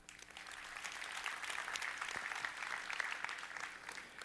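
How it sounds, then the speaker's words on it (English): A conference audience claps in sustained applause, a dense crackle of many hands that swells slightly mid-way then tapers off, heard from within the hall. "So give yourself a big round of applause for that."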